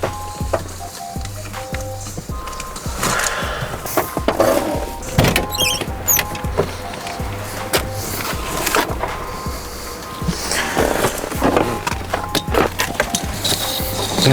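A Mercedes-Benz Sprinter van pulls away and drives on, with a steady engine hum, rattles and knocks from the cabin, and bumpy road noise throughout, loud and close from inside.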